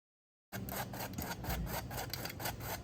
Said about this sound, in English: now we're gonna start to sift the flour right into a mixing bowl